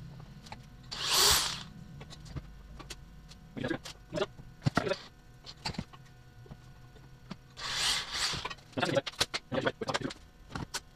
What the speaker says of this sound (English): So now I'll just countersink this from the inside.